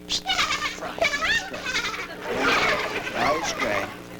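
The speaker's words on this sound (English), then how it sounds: "there's the sheep" Sheep bleat several times in quick succession, wavering and fairly close, in a 1982 telling of the shepherd's parable, with a voice talking alongside them.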